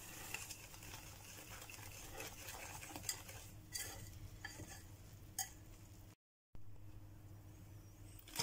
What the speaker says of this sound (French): On va venir mélanger tout ça jusqu'à temps d'avoir une texture un peu plus épais qu'une pâte à crêpes.